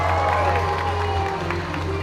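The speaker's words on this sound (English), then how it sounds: "They're trying to cheer him over the line." A home crowd at the Moscow 2019 archery World Cup compound men's quarterfinal gives off a steady, sustained roar of cheering and murmur. It holds at an even level throughout, with a low hum running beneath it.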